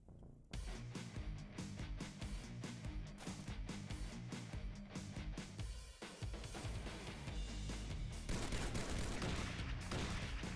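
Video game gunfire in XPiratez, a long stretch of rapid, overlapping shots and bursts that rolls on steadily and grows heavier near the end, with no talking.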